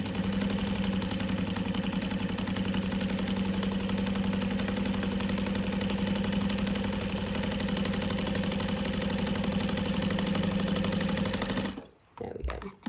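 A sewing machine stitching a fabric wallet, a steady close mechanical whirring hum that runs continuously for nearly twelve seconds before stopping abruptly, with a few brief noises afterward.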